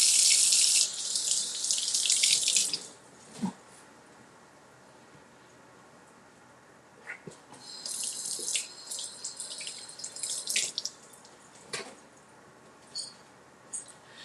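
Running kitchen tap water splashes loudly while peppers are rinsed, cutting off, then returning as intermittent splashing and handling clatter at close range with no talk.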